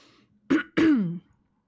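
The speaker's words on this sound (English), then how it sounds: "He coughed awkwardly" A visual novel character gives two short, awkward coughs, close and clear against near silence.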